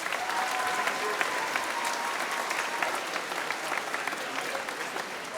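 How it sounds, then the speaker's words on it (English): Audience at a Keene High School assembly applauds in a full, sustained burst of dense clapping that holds at a steady level for over five seconds. "Please give them a round of applause."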